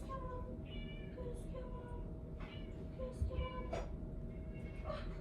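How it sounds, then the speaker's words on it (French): Cats fighting indoors let out strained, wavering yowls and meows, somewhat faint against a low steady rumble, with short sharp cries rising in bursts. "Mes chats se battent."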